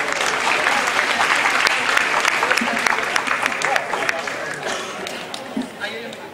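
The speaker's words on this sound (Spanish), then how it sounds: "Un fuerte aplauso para él." An audience at a Peruvian festival applauds a storyteller taking the stage, a full sustained round that gradually thins out as voices emerge beneath it.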